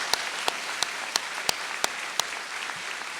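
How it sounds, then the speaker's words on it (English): Steady clapping from a crowd fills the space, with several sharp individual claps standing out at a regular pace over the continuous applause. "Let's give these graduates a round of applause."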